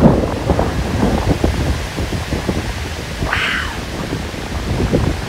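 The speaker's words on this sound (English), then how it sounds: "Well, it's still thundering." Rolling thunder from a storm over a big lake, a steady rumbling wash under wind and rain with one brief higher crackle midway, loud and continuous throughout.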